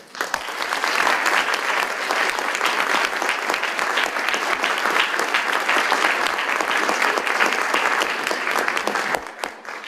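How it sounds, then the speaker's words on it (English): Sustained applause from a large audience at a high school National Honor Society induction, steady and even for nearly ten seconds before tapering off at the end. "Please join me once again in applauding all of our National Honor Society members."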